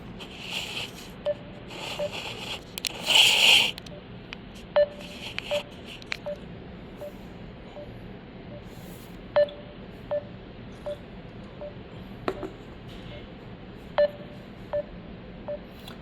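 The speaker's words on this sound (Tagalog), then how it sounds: "tawagan natin yung kaibigan natin" A phone call being placed, with a series of short dialing beeps spread unevenly across the span, each crisp and close, against a quiet background with no voices.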